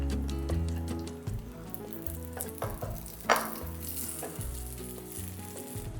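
Cashews and raisins frying in ghee, a soft, steady sizzle punctuated by light stirring clinks and a sharper crackle as more is added.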